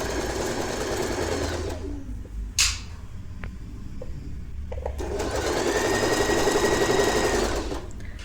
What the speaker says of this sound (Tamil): ஃபுல் லென்த்தாக ஃபுல் பாக்ஸ் மாதிரி நீட்டாக ஸ்டிச் பண்ணிக்கோங்க.